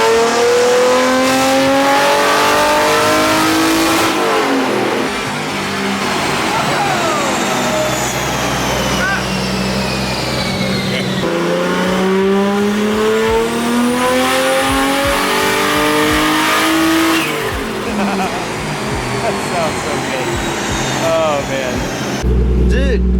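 Nissan R33 engine roaring on a dyno, loud and close, with repeated rising and falling revs and strong whining harmonics for the whole stretch while people talk over it.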